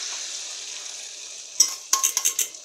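Beaten egg and milk poured onto fried sausages in a hot pan, a steady frying hiss that bursts into several loud, close sizzling spurts near the end.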